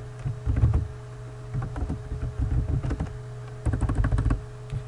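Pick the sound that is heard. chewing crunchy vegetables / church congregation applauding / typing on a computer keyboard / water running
typing on a computer keyboard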